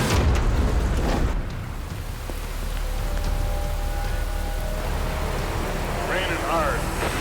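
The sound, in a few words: heavy rain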